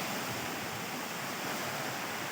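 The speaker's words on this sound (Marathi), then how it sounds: "इकडे बाजूला पाण्याचा प्रवाह जातोय" A water stream runs through dense forest in the Konkan near Hasol, Lanja, giving a steady, full rushing wash with no voices and no pauses.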